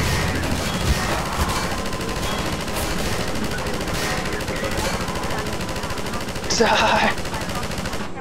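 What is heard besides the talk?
gunfire in video game Half-Life 2 VR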